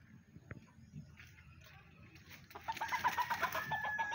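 Chickens cluck and call from nearby in a yard, the sound building into a louder run of repeated clucks toward the end over a low, noisy background.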